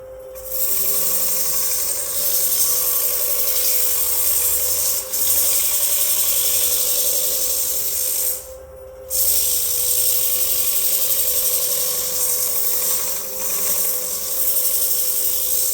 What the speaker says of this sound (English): I'll get this on the lathe, sand it